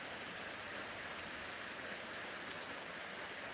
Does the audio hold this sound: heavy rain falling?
yes